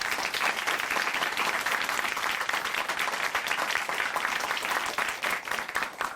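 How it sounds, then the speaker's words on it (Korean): A church broadcast studio audience gives loud, continuous applause, a dense wash of many hands clapping at a steady level throughout. "다시 한번 박수 보내드릴까요?"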